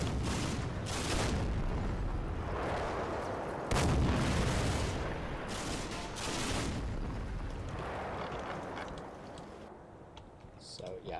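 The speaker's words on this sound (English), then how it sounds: "We're just shooting the crap out of these buildings, basically." Heavy video game gunfire pounds away at buildings in a dense, continuous barrage of booming shots and impacts, loud and close, while someone talks over it.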